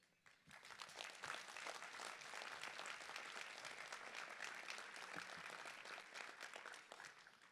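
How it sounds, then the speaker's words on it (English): Sustained audience applause fills a partnership meeting's opening session as the outgoing chair is honored, a dense, steady patter of many hands clapping at close range from start to finish. "Let's give him another round of applause"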